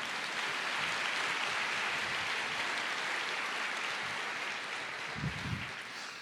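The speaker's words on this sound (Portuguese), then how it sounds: "aplauda ao Senhor" A church congregation applauding during a service, a dense, steady wash of clapping that carries on evenly for several seconds, with a brief low thump near the end.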